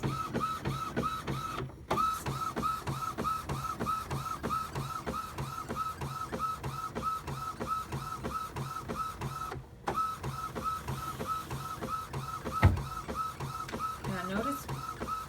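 An Epson printer running a job on glossy photo paper, its print head shuttling back and forth in a steady repeating whir with two brief pauses, close and continuous.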